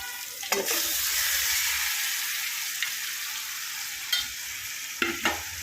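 Marinated chicken sautéing in oil-separated masala in a pan gives a steady, close, loud sizzle, with a few sharp spoon clinks and scrapes as it is stirred, no voices.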